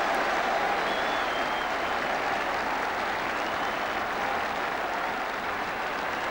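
A rugby crowd at the 1979 John Player Special Cup Final between Moseley and Leicester applauding a conversion kick, with a broad, sustained wash of clapping from a large stadium crowd that holds steady for several seconds.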